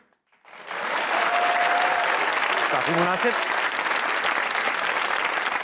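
Studio audience on a Pakistani comedy talk show bursts into loud, sustained applause after a brief quiet start, the clapping holding steady while a voice speaks briefly over it.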